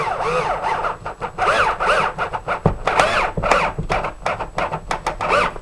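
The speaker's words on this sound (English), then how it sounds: "now I'm going to continue the drill" A power drill whirs up close, its pitch rising and dipping as it drives a screw through drywall into scrap wood in steady bursts.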